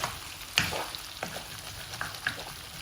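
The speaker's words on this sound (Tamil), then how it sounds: "அப்படியே கிண்டி கொஞ்சம் பொரிக்கும்" Soft, steady sizzling of pork belly frying in oil, with scattered scraping clicks as it is stirred in the pan.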